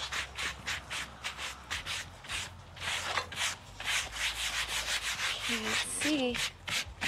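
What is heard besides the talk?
scraper scraping sawdust off cherry wood slab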